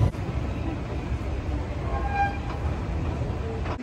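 A Vienna metro train runs steadily, with loud continuous rumble and rolling wheel noise, brief faint tonal squeals partway through, and no talking.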